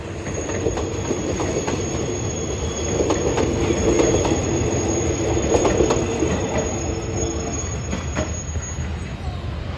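A long empty train of more than 20 cars, hauled by two locomotives near Bang Sue in Bangkok, passes close by with a loud, continuous roar of rolling wheels, repeated clickety-clack joints and a high, thin wheel squeal throughout.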